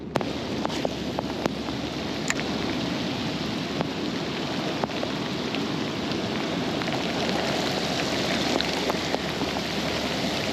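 Heavy rain pours steadily in a tropical storm around hidden creeks, a dense continuous hiss with scattered drop ticks and a faint low rumble that fits distant thunder.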